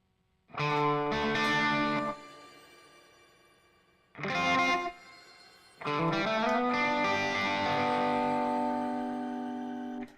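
Electric guitar played through an IK Multimedia TONEX pedal with reverb engaged: three distorted chords ring out in turn, the last sustaining and slowly decaying with a lingering wash.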